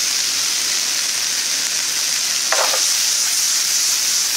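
Shishito peppers and eggplant stir-fry with minced meat in a pan, giving a continuous close sizzle and crackle, with a brief scrape or stir partway through.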